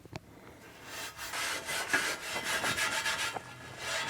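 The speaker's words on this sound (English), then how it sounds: "I'm gonna go one more time with the steel wool and just scrub it one more time" Steel wool scrubbing rust off a Camp Chef griddle surface, a close, continuous gritty rasping with repeated back-and-forth strokes that build in loudness over about four seconds.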